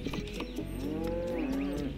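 Cattle in the video game Tropico give a single drawn-out moo, close and clear, rising and falling over a soft in-game ambience with no talking.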